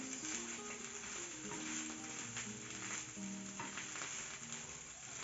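Onion and mincemeat samosa filling sizzles steadily in a pan while being stirred, a soft continuous frying hiss with faint scraping, no talking.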